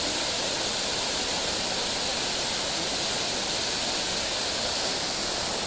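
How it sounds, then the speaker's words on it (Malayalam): Paloor Kotta waterfall pours down in a loud, continuous broadband roar that stays even and unbroken, heard from close by with no voices over it. "പ്രശസ്തമായ പാനൂർ കോട്ട വെള്ളച്ചാട്ടം."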